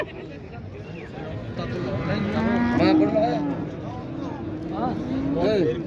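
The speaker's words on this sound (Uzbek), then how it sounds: "Mana ho'kizcha sotilyapti." A young bull at a busy livestock market in G'ijduvon, Uzbekistan, with a lowing moo amid steady crowd chatter and voices talking nearby throughout.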